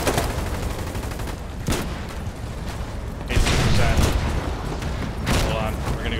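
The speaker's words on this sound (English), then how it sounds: "Suppress that MG on the right, we take damage from it." Machine gun fire in the Foxhole war game comes in rapid, loud bursts mixed with heavier booms and mechanical clatter, the shooting rising sharply midway and staying dense throughout.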